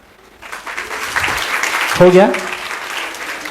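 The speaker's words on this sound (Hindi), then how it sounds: "बजाओ ताली।" An audience at a career guidance programme breaks into clapping after about half a second. The applause swells to a steady wash and stays loud to the end, with a voice briefly speaking over it.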